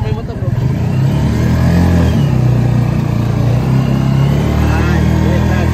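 A motorcycle passing on a rural road, its mid-pitched engine drone swelling and fading against a steady near vehicle rumble, with people talking over it.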